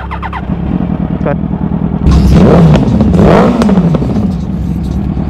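An old-model Yamaha R1 sport motorcycle revs hard in first gear, its engine climbing in pitch through two loud, close surging pulls over a steady idle, with road noise and rattle around it.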